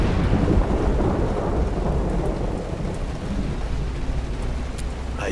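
Heavy rain pours steadily in a Road 96 video game scene while low thunder rumbles underneath, close and loud throughout, with no voices.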